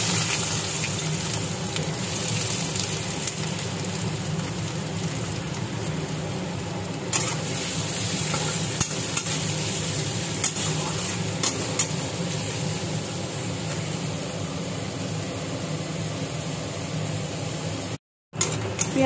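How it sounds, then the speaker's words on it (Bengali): Chopped onions sizzle in hot oil left from frying prawns, a steady close hiss of frying that runs continuously with occasional soft clicks of stirring and one brief dropout near the end. "ভাজা তেলটার মধ্যেই আমি পেঁয়াজ কুচিগুলো দিয়ে দিব"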